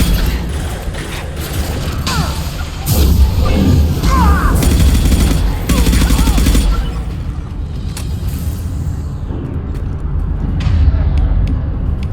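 Weapons fire in a Mass Effect 2 combat scene, heard as bursts of mechanical clatter and impacts over a loud battle din, with sharper volleys near the middle and a calmer stretch toward the end.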